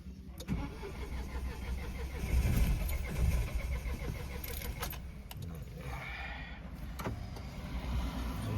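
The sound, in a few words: car engine cranking with the self-starter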